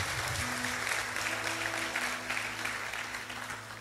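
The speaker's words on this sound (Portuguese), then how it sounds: "Dê o melhor aplauso que você pode dar ao Senhor." A church congregation claps together in a dense, sustained round of applause, with faint murmuring beneath it.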